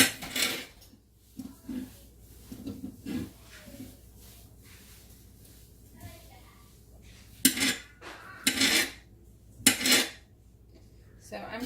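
Mushrooms being sliced at home for canning: close, irregular knife and utensil clinks on a board or dish, with a few louder clattering strikes near the end and a voice murmuring faintly in the background.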